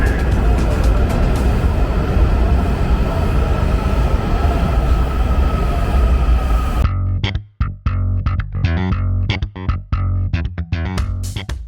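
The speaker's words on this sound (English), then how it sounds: "On the metro." A Washington DC metro train rides along, its loud, steady rumble and rail noise continuing for several seconds before breaking into choppy, intermittent rattles and clanks as it moves through.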